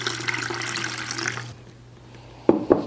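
Drip coffee being poured, a steady liquid stream for about a second and a half that stops abruptly, followed by two short clinks near the end.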